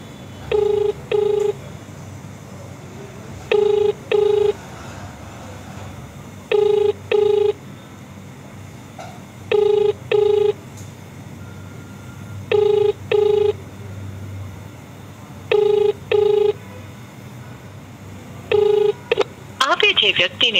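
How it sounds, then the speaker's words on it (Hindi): A phone call placed live during a heated political exchange rings out: paired ringback tones repeat steadily about every three seconds over a low background murmur, then a brief burst of noise at the very end. "आपके सामने फ़ोन हो रहा है।"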